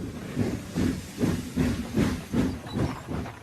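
A steam train hisses in steady rhythmic puffs, about seven regular chuffs of breathy steam noise at a moderate distance, with no voices.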